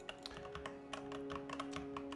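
Rapid, irregular keystrokes on a loud computer keyboard, close and clear, a steady patter of taps with a constant electrical hum underneath and no talking.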